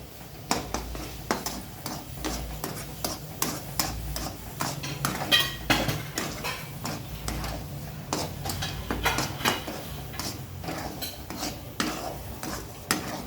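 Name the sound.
sheera stirred and sautéed with cardamom and nut powder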